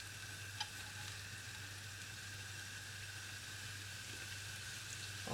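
Leeks sweating in a pan alongside scallops give off a steady, quiet sizzle, a soft continuous hiss with a faint low hum beneath it and no talking.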